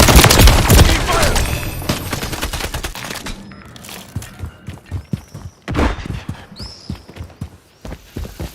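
Rapid bursts of automatic gunfire crackle loudly in a military shooter video game, tapering into scattered separate shots and short volleys.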